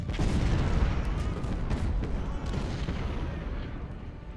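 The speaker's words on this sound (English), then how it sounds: "now Lane is taking the brunt of shots from our artillery" Civil War-era cannon fire rumbles through a battle in Ultimate General: Civil War, a dense, continuous roll of overlapping booms and distant musketry that stays loud before easing slightly toward the end.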